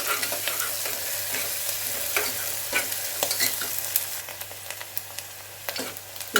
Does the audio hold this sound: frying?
yes